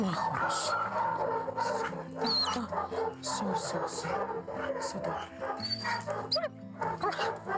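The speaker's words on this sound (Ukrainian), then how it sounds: "Коли приїхала Ольга, собака від радості ледь не збиває її з ніг." An excited dog barks and yips repeatedly in short, uneven bursts, with whimpering notes mixed in and voices nearby, at a moderate distance.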